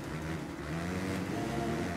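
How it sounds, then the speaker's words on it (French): A non-tuned Yamaha motocross bike at Matterley Basin in MXGP3, its engine held at a steady, droning rev for a short stretch, moderately quiet and with no talk over it. "Là, je suis obligé de faire ronfler le moteur"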